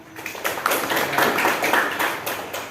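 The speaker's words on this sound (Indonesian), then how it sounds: "Tepuk tangan." A group claps together for a few seconds, a dense burst of hand claps in a room.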